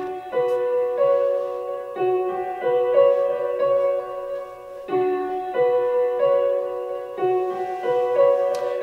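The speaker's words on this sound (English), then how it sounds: "looped it, and pitched it up. So it's pitched up, but it's slowed down, and it sounds like this." A beat loop stretched, pitched up and slowed down in FL Studio plays as repeating bright harmonic chords in a steady rhythm with short gaps, loud and alone.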